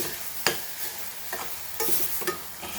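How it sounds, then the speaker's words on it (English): Chilli masala is sautéed in a pan for a Goan crab chilli fry, a soft sizzle broken by several sharp spoon scrapes and stirs at irregular intervals, close by with no talk. "Just saute this for a few minutes till the rawness of the masala goes"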